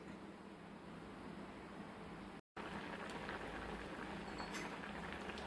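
Potatoes simmering in coconut milk for potato olan, a soft, steady bubbling hiss in a covered pot, low and continuous with a brief break midway, no talking.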